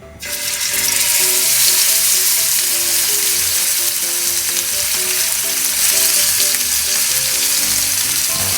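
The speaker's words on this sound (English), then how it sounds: "It's going to start sizzling right away and we're going to sear it right away." Beef tenderloin sears loudly in hot oil, a steady, dense sizzle that starts abruptly and continues without pause.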